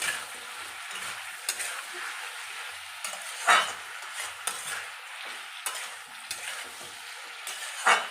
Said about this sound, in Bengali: লবণ দিয়ে আবার একটু ভালো করে নেড়ে চেড়ে দিতে হবে।